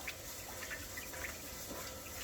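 Water splashes and trickles softly as rice is rinsed for a Silver Crest rice cooker, a steady low wash with small sloshing bursts and no talking.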